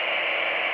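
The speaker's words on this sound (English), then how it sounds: "since it's no voice or no sound, it's just a hiss" Steady radio static hiss from an aircraft radio on a weak signal with no voice or tone present, a continuous broadband noise holding level and close for under a second.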